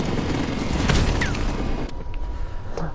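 Heavy booming rocket explosion from an RPG in Call of Duty: Modern Warfare Remastered, a loud rumbling blast with crashing debris that fades into quieter rattling and a faint whistle.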